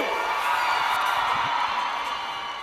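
A youth empowerment week crowd at Vaal screams and cheers in a continuous, fairly loud roar of many voices, with higher shouts rising out of the mass.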